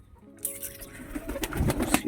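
Pet pigeons coo in soft, throaty bursts close by, a few overlapping calls with faint fluttering after a quiet start.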